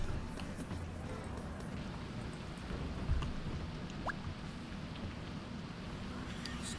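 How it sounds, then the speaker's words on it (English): Steady, loud rain in the video game Spaceport Janitor, a dense continuous hiss with low rumbling underneath and occasional faint clicks. "Stupidly loud rain."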